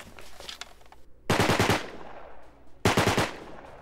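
Automatic rifle spray in the multiplayer survival video game Rust, two loud rapid bursts of close gunfire, each about half a second long, separated by quieter background noise.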